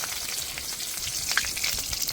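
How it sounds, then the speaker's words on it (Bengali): Pieces of bhola fish frying in oil, a dense continuous sizzle with scattered crisp pops and crackles, close and steady with no talk. "মাছগুলো ভাজা হয়ে গেছে,"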